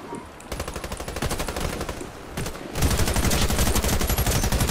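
Rapid automatic gunfire in a multiplayer shooter game, sustained bursts of loud machine-gun fire that intensify into a dense continuous barrage in the second half.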